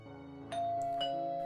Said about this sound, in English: The doorbell rings before I can answer.